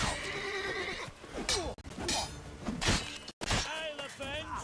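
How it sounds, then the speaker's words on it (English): Horse neighing in The Witcher 3 during a fight with bandits, several loud whinnies with hoof thumps and breaking sounds, mixed with shouted combat voices. "Hit the horse in the head!"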